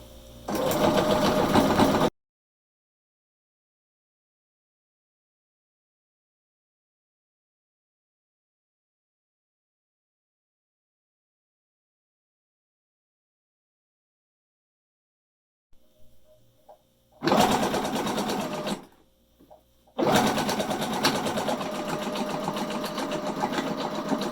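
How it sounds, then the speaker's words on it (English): A sewing machine stitching a pillowcase seam, whirring loudly in short bursts separated by a long silence, with brief stops and restarts and no talking over it. "there is the seam I just sewed"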